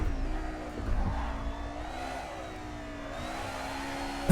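A 1990s DTM race car's engine revs steadily in Assetto Corsa, a driving game, with a sustained mid-level drone that rises and dips across a few seconds without talk.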